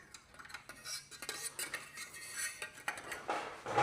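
Metal heat shield slid onto the slash-cut exhaust silencer of a Triumph Scrambler 1200 XE motorcycle, giving a run of close scraping and clinking metallic contacts in quick irregular bursts, with no talking.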